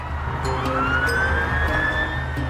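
An ambulance siren wails steadily at a distance on a UK motorway, its rising tone sitting over a low traffic rumble.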